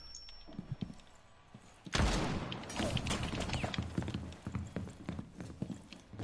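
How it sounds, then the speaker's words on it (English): A flashbang grenade bursts loudly in Rainbow Six Siege, a sudden broadband blast followed by ringing, crackling noise and scattered thumps that continue for several seconds. "You just threw a flashbang up the hatch."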